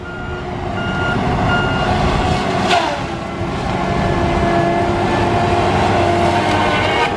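A Tigercat LX830D tree-cutting machine runs loud and steady in the woods with a constant diesel drone and a repeating reversing beep. A brief crack or snap comes near the middle.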